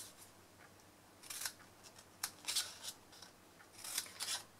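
Scissors snip through paper pieces for a chocolate Santa stocking craft, several short crisp cuts in irregular clusters, close and fairly quiet against a faint background hum with no talking.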